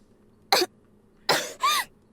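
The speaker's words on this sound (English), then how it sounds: "Suddenly, you starts to cough." A character coughs in the Ever17 remake visual novel: one short cough, a pause, then two quick coughs in a row, close and clear against a quiet background.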